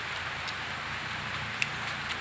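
Steady rain falls throughout, a dense, even hiss of drops with a few louder nearby drips standing out, and no voices.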